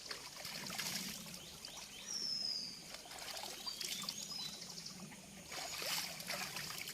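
Fresh water trickling and pouring from a natural stream outdoors, a soft continuous babble with slight swells in flow, fairly faint and close, with no talking over it.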